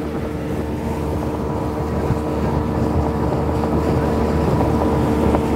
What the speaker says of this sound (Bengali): ওই যে একটা স্পিড বোট দেখেন